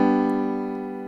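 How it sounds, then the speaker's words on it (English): A major chord struck once on a keyboard, sustaining evenly and slowly decaying, clear and close with no talk. "if you play it on a keyboard, it sounds like this"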